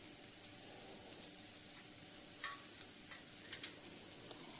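Cashews and roasted gram sauté in a pan for salna, a soft, steady sizzle with light scraping and clinks of a stirring spoon, faint and close, with no talk.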